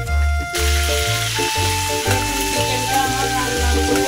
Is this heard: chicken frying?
yes